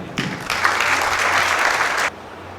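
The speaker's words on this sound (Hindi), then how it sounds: "अब आप जरा बैठ जाए पर तालियों के साथ" Audience applause breaks out in a church service, a dense wash of many hands clapping at once, loud and steady for about two seconds before stopping abruptly.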